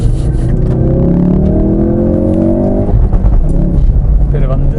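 A Ford Focus RS engine revs and blips through downshifts during heel-and-toe driving on a winding road, loud and close with rising tones, then rumbling on as the car carries on.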